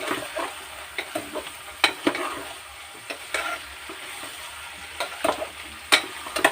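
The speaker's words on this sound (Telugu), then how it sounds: "బాగా కలుపుదాం." Bitter gourd curry is stirred in a pan, with a soft sizzle under irregular spoon scrapes and clicks against the metal, close and fairly loud, with no talking.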